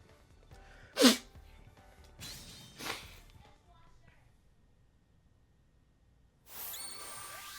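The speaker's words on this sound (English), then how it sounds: "Sorry for the sneezes, guys." Two or three close sneezes burst out in quick succession, each a sharp loud puff with breathy tails, followed later by a softer rushing noise.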